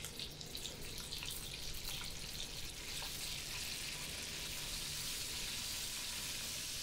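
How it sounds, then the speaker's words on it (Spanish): Beef chunks seasoned with salt and pepper browning in rendered bacon fat for a boeuf bourguignon, a continuous bright sizzle and crackle that holds steady throughout with no voices. "Salpimentamos al gusto y doramos por todos los lados en el mismo aceite de la panceta."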